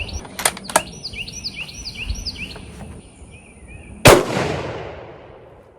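A 6.5 Creedmoor rifle loaded with 44 grains of powder fires a single loud, sharp shot outdoors, followed by a long fading echo; birds chirp and call in the background before the blast.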